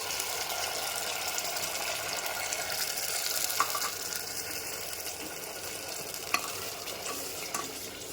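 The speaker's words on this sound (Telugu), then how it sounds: "ఇది బాగా మగ్గిన తర్వాత ఆయిల్ పైకి వస్తుందండి అంతవరకు దీన్ని బాగా వేయించుకోవాలి" A paste of onion, ginger, coriander, cinnamon and cloves sizzles and spatters steadily in hot oil, a dense close hiss with occasional scraping stirs.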